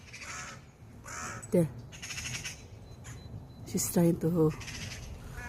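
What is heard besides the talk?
crows cawing around a tree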